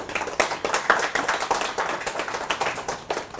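Applause from an audience at a Brahma Kumaris spiritual gathering, a steady patter of many hands clapping at moderate distance with no voices over it.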